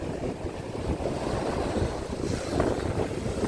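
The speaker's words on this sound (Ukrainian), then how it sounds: "Ну там страшно, хвиля така сильна" Strong sea waves surge and crash on the shore at Odesa in winter, a steady roaring wash with wind buffeting the microphone, loud and continuous throughout.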